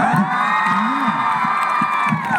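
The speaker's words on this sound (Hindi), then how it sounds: "अब तुम लोग ताली बजाना।" Cheering and whooping from the audience at a university poetry recital, a loud sustained crowd roar with a few voices calling out above the din and little clapping evident.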